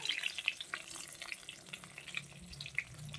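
Eggplant slices frying in a pan, a soft steady sizzle with scattered crackling pops throughout, fairly quiet and heard alone without any voices.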